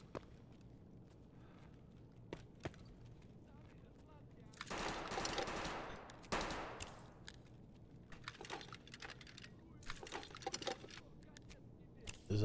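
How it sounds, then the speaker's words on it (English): Distant gunfire from the Tajilla boss in a shooter video game set in a factory: scattered sharp cracks and short bursts, with a louder rushing stretch in the middle, heard faintly over quiet background ambience. "Is that, Tajilla shooting, maybe?"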